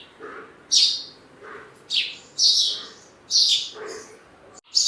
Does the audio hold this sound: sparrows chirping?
yes